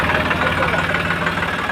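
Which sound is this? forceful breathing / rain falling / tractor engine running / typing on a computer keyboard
tractor engine running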